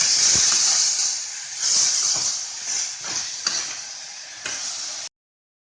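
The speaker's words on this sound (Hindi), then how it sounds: "टमाटर को 5 मिनट तक धीमी गैस पर ढक के पकाएंगे।" Chopped tomatoes cook under a lid on a low gas flame for Bengali-style tomato chutney, giving a steady close hiss and sizzle with faint soft bubbling and no talk.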